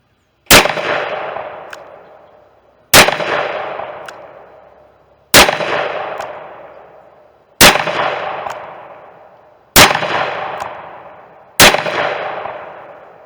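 A .454 Casull revolver fires birdshot target loads at a pumpkin: six loud, sharp shots, each with a ringing decay, spaced about two seconds apart, with no voices.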